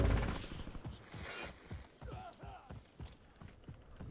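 Gunfire from a shooter video game, including what may be a sniper shot, comes as a few sharp bursts over a busy game mix while French-speaking players talk throughout.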